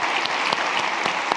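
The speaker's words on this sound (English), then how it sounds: "huge round of applause" Audience at a corporate innovation keynote breaks into steady, dense applause, many hands clapping continuously and fairly loud throughout.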